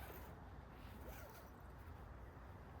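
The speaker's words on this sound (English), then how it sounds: "So just unzip both ends and then jump in as per." A zipper on a hammock cocoon is pulled open in one quick, fairly faint rasping run lasting a few seconds, close to the microphone with no talk.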